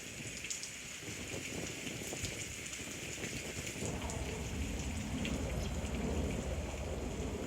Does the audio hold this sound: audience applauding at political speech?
no